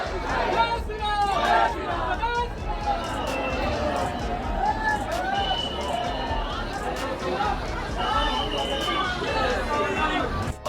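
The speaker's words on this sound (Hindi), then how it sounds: "यहाँ बहुत भीड़ थी" A dense crowd of devotees at the Hanuman Garhi temple fills the space with steady babble and overlapping chatter, many voices talking at once nearby, with no single voice standing out.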